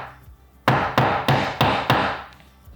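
A smooth-faced finish hammer taps a nail into shiplap lumber: five sharp, evenly spaced wooden knocks about a third of a second apart, close and clear with nothing else around them.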